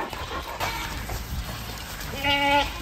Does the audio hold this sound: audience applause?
no